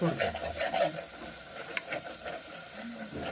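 Vegetables are stirred into sizzling masala in a pan, a spoon scraping and rubbing through a steady hiss of frying oil, with a voice talking over it.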